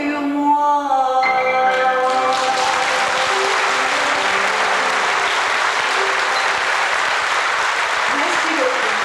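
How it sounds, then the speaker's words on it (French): Audience applause after a music-hall song, a dense steady wash of clapping from a crowd that starts right as the final sung note fades and carries on at full strength. "Les applaudissements me donnent la chair de poule."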